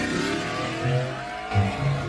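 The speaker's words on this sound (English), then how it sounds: "that V8 sounded pretty nice" V8 car engine revving in short bursts, two or three throaty surges rising and falling over a steady mechanical drone, fairly close and loud.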